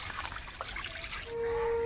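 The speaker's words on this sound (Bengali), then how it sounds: "কিছুটা জল দিয়ে দেবো।" Water is poured into a karahi on a hot stove, giving a short trickle and splash that ends in a steady tone as the pan takes it.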